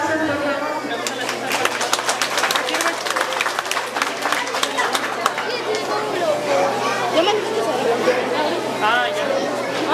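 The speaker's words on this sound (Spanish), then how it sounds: "Aplausos, por favor." Steady applause at a kindergarten closing ceremony in Ameyaltepec, Guerrero, runs continuously under lively crowd chatter and children's voices, with no break from start to finish.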